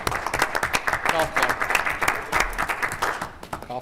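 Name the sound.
golf clap, quiet polite applause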